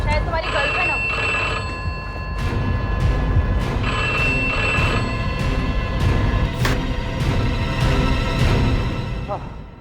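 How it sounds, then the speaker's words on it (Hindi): An old-style telephone bell rings in repeated bursts through a dramatic TV crime-show scene, loud and close, with a voice talking over it. "अब जाके देखो माँ की किसका फोन है"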